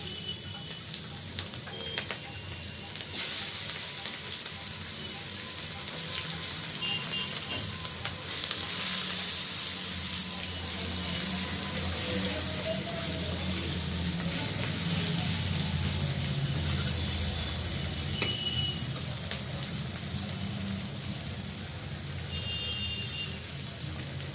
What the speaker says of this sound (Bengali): মাছ ভাজার তেলে আমি কালো জিরে দিয়ে দিলাম। কালো জিরে দেওয়ার পর আমি এই পেঁয়াজ দিচ্ছি।